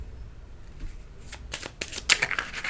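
Tarot cards being shuffled by hand, a quiet riffle building into several quick bursts of flicking and slapping card edges near the end, close and otherwise quiet.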